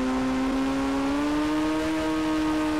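Steady whining engine drone from an airplane in an Indian bike video game, a continuous tonal hum holding a nearly constant pitch that rises slightly, moderately loud and alone.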